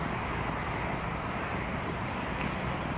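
A Boeing 747 airliner at Toronto Pearson Airport gives off a steady, broad engine roar that holds even and unbroken, heard from a distance with no voices.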